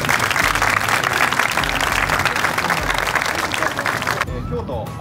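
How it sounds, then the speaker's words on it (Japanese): Applause from a group at a Fukuoka University football club training session greets a visitor, steady clapping filling the clip before cutting off near the end. "拍手。"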